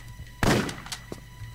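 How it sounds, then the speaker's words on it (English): A single loud shotgun blast from the video game Tomb Raider Chronicles, set in the Colosseum level, with a sharp thumping onset and a short decaying tail over a quiet game background. "3 shotgun shots was enough."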